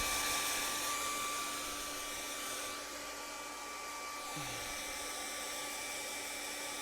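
Hair dryer blowing steadily on an acrylic painting, a continuous close airy whir with a constant hum, holding at an even level for the whole stretch with a slight dip partway through, no speech.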